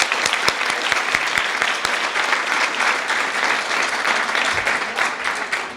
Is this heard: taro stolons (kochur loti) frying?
no